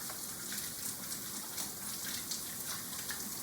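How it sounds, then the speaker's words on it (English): Hands are rinsed under a running kitchen tap to wash off soap, a steady close hiss and splash of flowing water with no talking. "stick them back under the water, and wash all the soap off."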